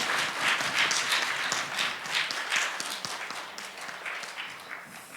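A church congregation applauds a visiting missionary at a Sunday service, a broad roomful of clapping that stays loud and steady before slowly thinning out.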